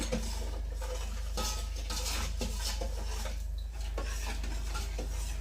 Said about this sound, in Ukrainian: Розмішуємо цукор і сіль.